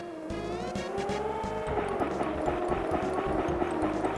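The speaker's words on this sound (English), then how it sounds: "like the sound effects, I can hear when the cars come behind me" Synthesized race car engines from a Super Nintendo racing game drone steadily with rising pitch, a buzzy, chiptune-like motor whine with rhythmic pulsing beneath, continuous and fairly loud.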